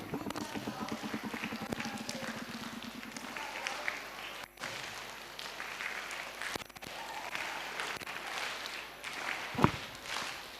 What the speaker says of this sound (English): we have to do two claps down and one clap in the air